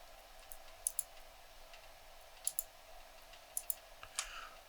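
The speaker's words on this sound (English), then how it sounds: "I've got the layer selected, and I'll hold Control and left click." Mouse clicks with Control held while working in a 3D landscape editor: three quick double-click pairs and a final single click, crisp and close against a quiet room hum.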